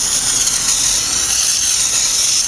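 Aerosol brake cleaner sprays in a steady, loud hiss onto the drum brake of a 1998–2004 Ford Focus, lasting the whole moment without pause or talk.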